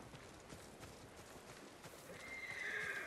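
Horses in the Ghost of Tsushima video game clip-clop softly, then one lets out a clear, rising whinny near the end over steady ambient game sound.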